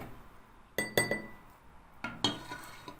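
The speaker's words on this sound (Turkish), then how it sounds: "Bal ve limon suyunu karıştırıp yüzümüzün her yerine eşit miktarda uyguluyoruz." A spoonful of honey and an equal amount of lemon juice stirred together for a homemade face mask: a few sharp spoon clinks against a glass or bowl, close and clear, in two short clusters with no talk.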